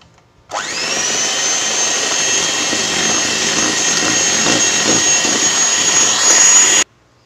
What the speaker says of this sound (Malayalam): നമുക്ക് പഞ്ചസാര പൊടിച്ചതും കൂടി ഇട്ടിട്ട് ബീറ്റ് ചെയ്തെടുക്കാം